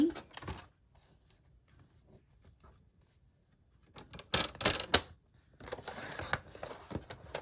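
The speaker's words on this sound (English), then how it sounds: "I'm going to grab my trimmer so I can cut it" A paper trimmer makes a couple of short, crisp slicing and sliding strokes through paper during craft work for a goodie box, with soft handling rustles before them in a quiet room.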